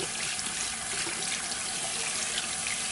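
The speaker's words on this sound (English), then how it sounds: "And then I just rinse it off with warm water and you be done." Warm tap water runs steadily into a sink while hands are rinsed under it, making a close, continuous splashing rush with no talk over it.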